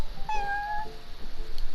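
A single clear cat meow, rising then sustained and falling, from a cat greeting customers at the Cat's Tail in the game Genshin Impact, close and alone with faint ambience.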